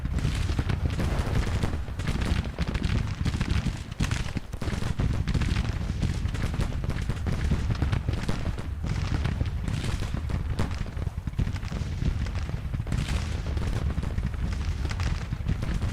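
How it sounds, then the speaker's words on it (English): Artillery booms and volleys of rifle fire from a Civil War battle in the game Grand Tactician: The Civil War form a loud, unbroken roar of overlapping shots and crackling musketry that lasts throughout. "Some kind of artillery duel going on in the south."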